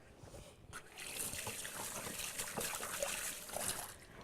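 Hands are rinsed under a running kitchen tap while making scones, a steady trickling and splashing stream that rises after a brief quieter start and continues without talk.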